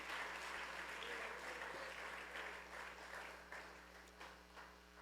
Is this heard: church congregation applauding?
yes